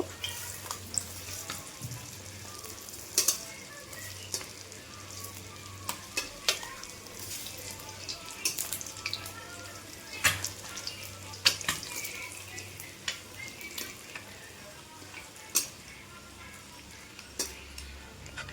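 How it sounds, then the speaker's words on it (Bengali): Eggs frying in oil in a pan while being turned over, a soft steady sizzle with scattered crackles and clinks of a utensil against the pan, close and unhurried, no talking. "এপাশ ওপাশ দুপাশে আমি সুন্দর লাল লাল করে ভাজবো।"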